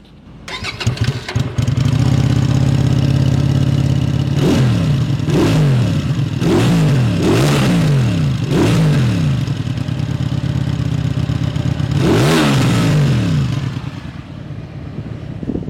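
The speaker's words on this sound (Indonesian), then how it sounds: "suara knalpot dan suara klaksonnya. Dan ternyata suara mesin itu enak banget. Dia halus tapi ada bassnya" A WMOTO Morbius 250 Harley-style motorcycle starts up and settles into a smooth, bassy idle close by. A series of sharp throttle blips follows, then a final longer rev before it drops back to idle.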